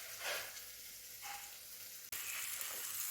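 Crushed ginger and garlic hitting a pan of onions and tomatoes for a mutton curry, giving a soft, steady sizzle with a few brief stirring scrapes and a short break near the middle, no voices.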